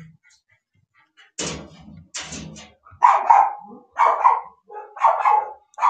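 A dog barks several times nearby, a couple of sharp barks then a quicker series of loud barks, with no one talking.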